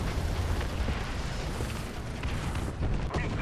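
A bomb explosion in the War Thunder video game rolls out as a dense, booming rumble that stays heavy and sustained, with a fresh burst of blast noise near the end.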